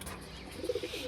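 A female pigeon at a home loft gives a short, soft coo in the second half, a few low throaty pulses close by against quiet background noise.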